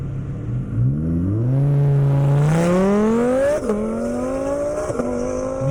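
A Ford Mustang GT500 accelerates hard down an airstrip at a speed event. The loud engine note climbs steadily through the gears, with two sharp shift dips before the end, and it stays close and dominant throughout.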